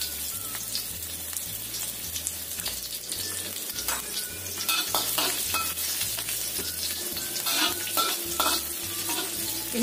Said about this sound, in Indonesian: Kemudian kita tumis dulu bawang merah bawang putihnya sampai matang.